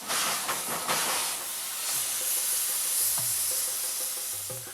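Steam locomotive on an Indian railway, acting as a banking engine helping a train climb a steep grade near Mhow, gives off a steady, loud broad hiss of escaping steam, with a few brief low knocks and rail sounds beneath it.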